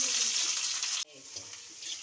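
Coconut pieces frying in hot oil in a home kitchen, a steady loud crackling sizzle that cuts off abruptly halfway through, then quieter, softer sizzling.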